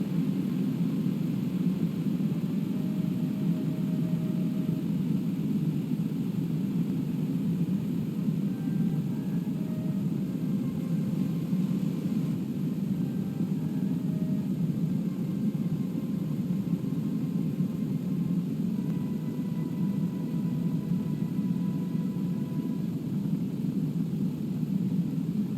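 A plane in Kerbal Space Program flies through thick atmosphere, producing a steady, continuous roar of rushing air and engine noise, constant in loudness, with no talking.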